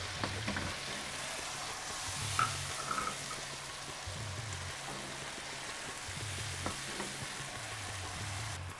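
Frying egg sizzles in hot oil in a kitchen as it is stirred while macaroni is prepared, a steady crackling hiss broken by a few louder spoon scrapes and clatters, with no speech.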